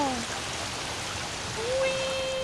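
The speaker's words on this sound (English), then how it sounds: "That sounds like a waterfall." A steady, broadband rush of falling water from a waterfall in the video game The Cave, continuous and fairly loud throughout, with brief tonal sounds drifting over it.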